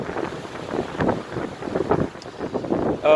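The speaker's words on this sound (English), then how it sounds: "the wind is crazy" Strong wind buffets a microphone outdoors in Nice, France, a steady gusty roar with rising and falling pulses throughout, no one speaking.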